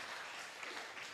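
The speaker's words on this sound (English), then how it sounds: "Let's give another hearty round of applause for all the choirs present here this afternoon." Applause from a church congregation greets the choirs at a Methodist church's 100th-anniversary celebration in Charlotteville, Tobago, heard as a soft, steady patter of many hands clapping with no speech on top.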